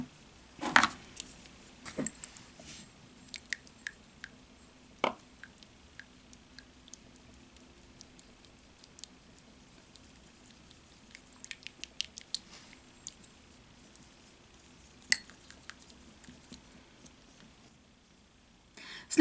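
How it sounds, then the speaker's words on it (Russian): A spoon stirs a face mask mixture of ginger and glycerin in a small bowl, giving soft, scattered taps and scrapes, close and quiet, with no talk. "смешайте все компоненты"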